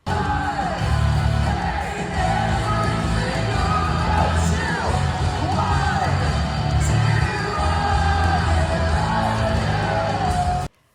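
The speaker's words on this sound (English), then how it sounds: "They got the crowd to scream the chorus, and in my recording that I took, you can actually hear me screaming" Concert crowd screaming a song's chorus together, a loud, massed roar of yelling and whooping voices over a booming, muffled music backing, continuous for several seconds before cutting off abruptly.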